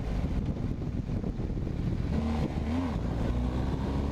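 A BMW R1250GS motorcycle riding along on a road heading into South San Francisco hills, a steady low engine rumble mixed with wind buffeting, close and continuous with slight rises in pitch.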